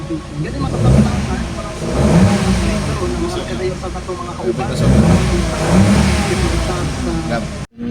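A Toyota Wigo engine with a misfire fault runs at a steady idle, a continuous mid-pitched drone that stays even throughout, with someone talking over it close by.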